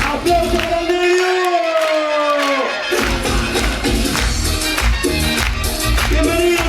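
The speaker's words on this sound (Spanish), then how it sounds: "¡Aplausos para el Negriu!" A television studio audience applauds and cheers loudly for a show guest, with dense clapping, whoops and a drawn-out shout up front, then rhythmic claps over music.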